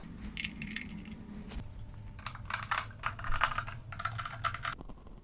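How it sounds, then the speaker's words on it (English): Screws being worked out of the panel of a YDM4109+ digital door lock, heard as soft close-up scraping, clicking and rattling in irregular bursts, faint and with no talk. "We must remove these 4 screws in order to take out this"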